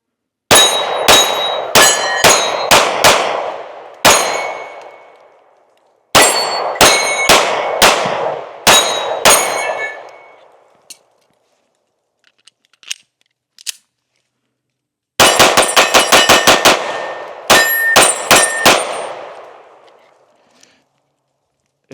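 Shots from a Taurus GX2 pistol striking steel targets, sharp ringing clangs fired in quick strings with pauses between them and a few faint distant pings in one gap.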